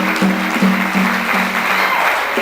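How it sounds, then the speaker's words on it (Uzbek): A crowd at a gathering claps steadily for a person being thanked, a dense, continuous patter of applause throughout, with a faint tonal hum underneath. "Bitta qarsak bo'lish insonga Rasulov O'rmas akaga bitta qarsak."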